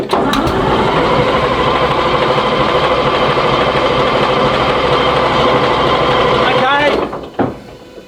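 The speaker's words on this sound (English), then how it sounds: "All right, Dave, just crank the engine over." A Chieftain tank's L60 engine cranks over with a loud, continuous mechanical churning for about seven seconds, then winds down abruptly and falls quiet.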